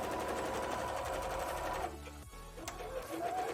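Sewing machine running a zigzag stitch with purple thread on a stretchy bra cup, a steady close mechanical whir that stops briefly partway, then resumes.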